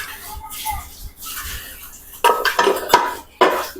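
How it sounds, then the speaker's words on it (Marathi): Metal clinks and clatters from a pressure cooker being handled with its whistle removed before preheating for a cake, several sharp knocks in the second half after quieter handling. "इथे आपण कुकरची शिट्टी काढून घेतलेली आहे"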